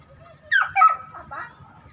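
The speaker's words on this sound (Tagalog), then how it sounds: "Tahol ng aso." A single short dog bark, followed by a brief whining yelp, over a low background rumble, by the sea where people are fishing from boats.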